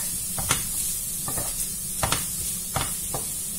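A savoury turnover filling stirred as it cooks in a pan, a steady sizzle broken by a few soft scrapes from the spoon.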